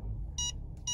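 Mercedes Parktronic rear parking sensor sounding two short, high electronic beeps about half a second apart over a steady low engine rumble inside the car.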